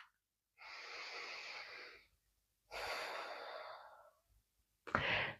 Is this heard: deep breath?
yes